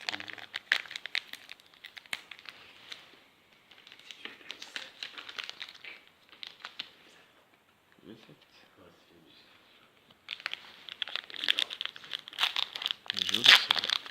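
Foil of Final Fantasy TCG Opus booster packs crinkles and tears up close in bursts, with someone speaking between and over the rustling.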